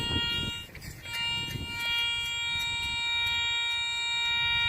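A handheld metal detector sounds a sustained electronic tone over a spot of buried metal outdoors. The shrill, steady beep holds throughout at moderate level, with faint shuffling noise underneath.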